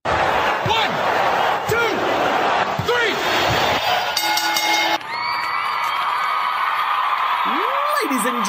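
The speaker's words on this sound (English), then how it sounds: "The crowd cheering, Cyclone, Cyclone." A crowd in the stands roars and chants 'Cyclone' in rising, repeated calls, loud and dense for several seconds before giving way to a different, steadier sound.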